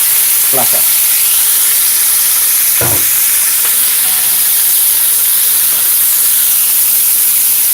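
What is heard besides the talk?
garlic butter shrimp sautéing in a pan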